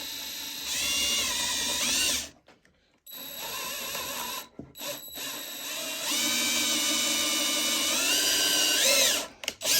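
A power drill bores a hole through wood for a wooden bird feeder, its motor whining loudly in long sustained runs with pitch sweeps and short pauses between bursts.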